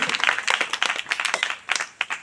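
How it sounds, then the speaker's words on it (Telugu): An audience at a gathering claps in a brief burst of scattered, uneven applause, moderately loud and close, lasting only a couple of seconds with no talk over it. "కొట్టండి చప్పట్లో."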